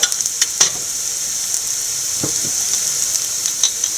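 Green chillies and grated coconut sautéing in a pan make a soft steady sizzle, with a few sharp scrapes and taps of a spatula, close and without talk.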